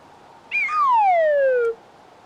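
A cheap plastic slide whistle plays one rising-then-long-falling glide that holds a bright, clear tone for about a second and ends abruptly, close and loud against a quiet room.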